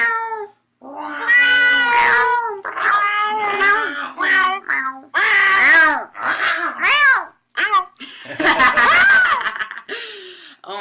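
Several cats meow and caterwaul loudly and close up in a rapid series of wavering cries, with short gaps between calls and laughter mixed in.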